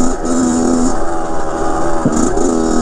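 A rebuilt 2007 Kawasaki KX 100 dirt bike engine runs loud and steady during a test ride, its pitch holding then dipping and climbing again as the rider works the throttle.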